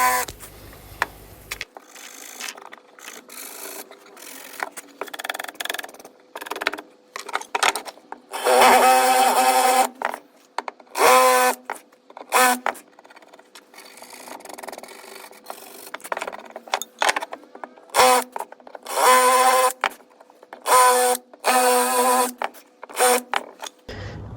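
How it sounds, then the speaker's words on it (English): A power drill bores larger holes into wood for a DIY mailbox, repeated bursts of whirring and grinding separated by short pauses, close and loud. "Basically what I'm doing is I got a bigger drill piece for the top of the holes."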